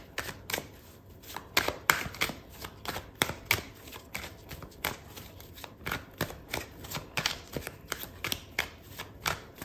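Deck of tarot cards being shuffled by hand, bursts of crisp riffling flutter and soft slaps repeating in an uneven rhythm, close and moderately quiet, with no talk.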